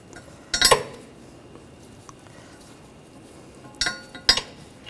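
Metal clinks as a brake hose fitting is worked loose from the rear caliper with a 14mm line wrench on a 2009-2013 BMW 328i xDrive: a sharp clatter early on, then two more close metallic taps after a quiet stretch.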